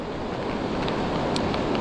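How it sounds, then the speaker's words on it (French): Steady, full roar of ocean surf and swell on a beach, a continuous wash of breaking waves close by with wind noise over it. "il y a quand même pas mal de houle"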